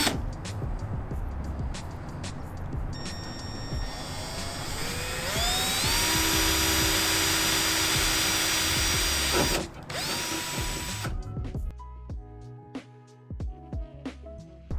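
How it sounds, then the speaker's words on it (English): A power drill boring holes through the trunk lid of an E92 BMW M3 while mounting a rear wing, its motor whining up in pitch and sustaining loudly before stopping, followed by clicks and handling noises. "So now I can go ahead and drill those holes out, stick the bolts through the trunk"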